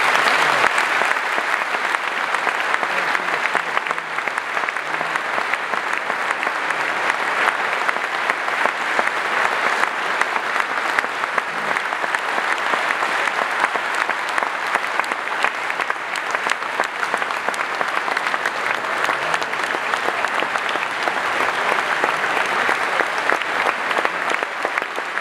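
Steady, dense applause from a large audience continues loud and unbroken after a closing political speech at a party congress.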